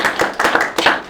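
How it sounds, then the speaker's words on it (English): Audience applause for an expert panel at a net zero challenge event, a brief burst of clapping from a modest crowd with distinct claps audible, fairly close and loud, with no talk over it. "Can we all give them a round of applause?"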